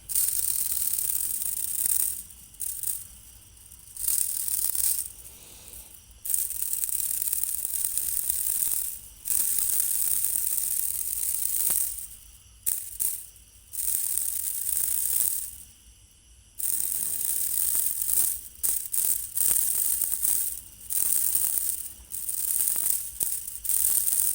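A short bamboo clapper used for calling field rats, 27 cm long, struck in repeated bursts of dry, buzzing rattles separated by brief pauses, close and fairly loud with no talking.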